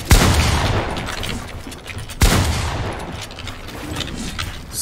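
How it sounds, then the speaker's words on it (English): SMG fire in Fortnite: two loud, close bursts about two seconds apart, each with a sharp crack and a long rumbling tail, and no talking over them. "we can only use the normal SMG"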